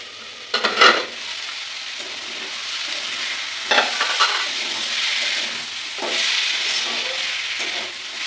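Vegetable curry sizzles in a pan while a spoon stirs it, giving a constant frying hiss with scraping bursts near the start, around the middle and again later, close up and with no voices.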